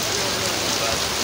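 Heavy rain pours steadily at an outdoor animal market, a dense and loud hiss that does not let up.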